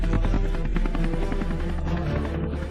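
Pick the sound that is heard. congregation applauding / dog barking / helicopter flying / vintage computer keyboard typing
helicopter flying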